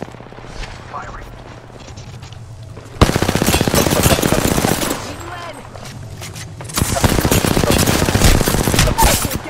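Video game machine gun fire comes in two long, loud, rapid bursts separated by a quieter stretch of background battle noise.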